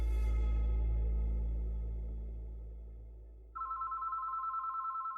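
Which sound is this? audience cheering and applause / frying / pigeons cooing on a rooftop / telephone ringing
telephone ringing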